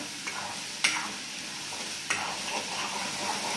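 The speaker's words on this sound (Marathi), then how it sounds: "हे मसाल्याला तेल सुटेपर्यंत होऊ देऊ छान" Steady sizzle of masala with red chutney frying in hot oil in a kadai, with a couple of sharp scrapes of a spoon stirring the pan.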